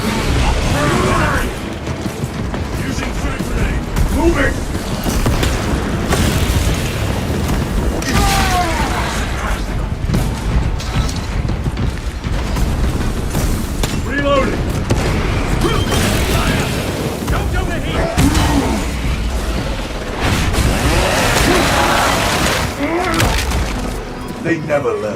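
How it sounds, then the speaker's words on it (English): Frag grenade blasts in a video game battle, heavy booming and crackling debris over a dense, continuous loud din of gunfire and mechanical noise, with voices shouting commands throughout. "Using frag grenade."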